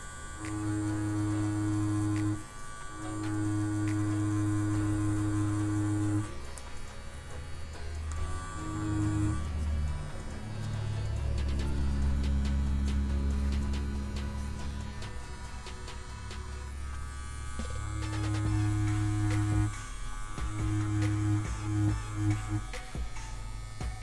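A CNC CW2 wireless direct drive tattoo machine hums with a steady electric buzz that holds for long stretches and cuts off briefly at times, close up and continuous.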